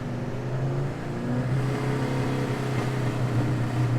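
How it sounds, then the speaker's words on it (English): A 700hp manual Mustang engine in second gear, close and loud, holding a steady low rumble and then rising in a throttle-blip rev during a downshift, with no talking over it. "So in second gear now, we're gonna blip the throttle to about 35"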